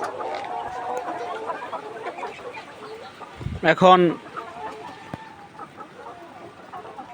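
Flock of about 1200 laying hens, 153 days old, on a poultry farm, clucking in a continuous busy background murmur, with a short spoken word rising over it midway.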